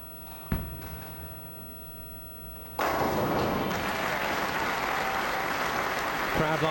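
Applause from the crowd at the 2007 World Tenpin Masters bowling match, following a strike on a single lane; it begins after a sharp early thud and swells into loud, sustained clapping that carries on to the end.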